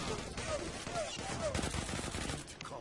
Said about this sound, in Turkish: Rastgele sıkıyorum tutarsa değil